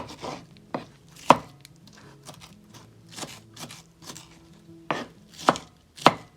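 A knife chops a quarter of an onion on a board for black bean burgers, giving a run of sharp, close, irregular thwacks with brief pauses between strikes.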